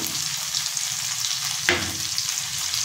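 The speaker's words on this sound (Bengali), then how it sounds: "সবজিটা নাড়াচাড়া করে নিচ্ছি।" Drumstick vegetable curry sizzles in a pan while being stirred, a steady close frying hiss with one sharp scrape of the spoon partway through, no voices.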